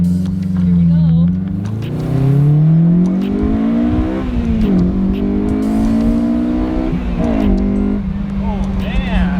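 A Honda S2000 fitted with a full Spoon exhaust and header revs hard under load, a deep, loud grumbling engine note rising and falling in pitch through several pulls, with people talking over it.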